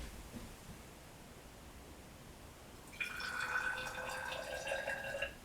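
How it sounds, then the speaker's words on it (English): Water poured into a container during a salt-water density lab, about 10 milliliters, begins partway through as a steady, bright trickle filling the vessel after a quiet stretch of faint room hiss. "we're going to add 10 milliliters of water"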